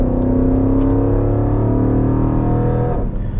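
A 2020 Jeep SRT engine with a Borla Type S exhaust drones loudly with a deep, throaty note while accelerating, holding steady then easing off near the end.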